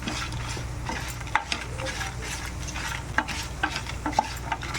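Coriander seeds roast in a dry pan for spinach chutney, a continuous close rattling sizzle punctuated by repeated light clicks and scrapes as the seeds are stirred.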